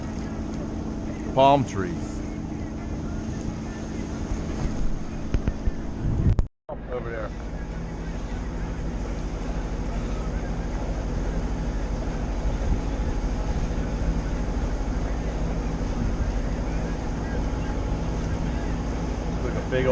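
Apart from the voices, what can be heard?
boats on the water at Fort Pierce, Florida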